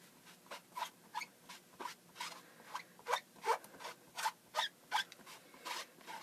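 Faint, rhythmic rubbing strokes of a water-dampened chamois wiping rubber stamps clean, roughly a dozen short scrubbing passes in steady succession with no talking.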